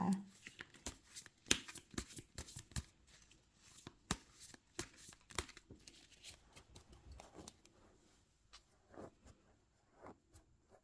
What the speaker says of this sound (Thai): ขอเป็นตัวแทนจับไพ่ตัดไพ่ให้คนเกิดวันอาทิตย์นะคะ